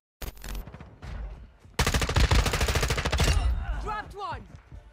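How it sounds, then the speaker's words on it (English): M4A1 SOPMOD rifle fire in the video game Modern Warfare 2, two loud bursts of rapid automatic shots, the second longer and sustained, ending in a short trailing sound. "this is the M4A1 SOPMOD, secret weapons in Modern Warfare 2"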